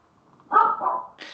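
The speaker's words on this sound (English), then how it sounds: "And that's my dog in the background agreeing." A Shih Tzu gives a single short bark with a whimpering edge, heard indoors in the background, followed by a faint brief yip.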